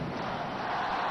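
A packed arena crowd at an Ateneo vs La Salle college basketball game roars in a dense, steady wall of cheering and shouting, loud and continuous throughout the brief moment.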